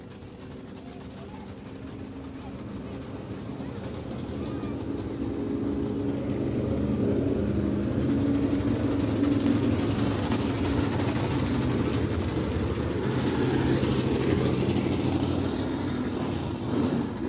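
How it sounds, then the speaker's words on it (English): IMCA Modified race cars roll out onto a speedway track, a steady low engine drone that builds gradually and holds at moderate distance, with crowd and ambient noise around it. "Good looking group of IMCA Modifieds there coming out."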